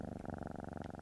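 A kitsune character in a video game purrs in a soft, steady rumbling loop of rapid pulses, close and continuous, with no talking over it.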